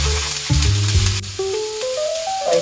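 Onion, garlic and broccoli sautéing in a hot pan, with a steady sizzle and frying crackle, loud and close, while stirring clatters against the pan; no one speaks.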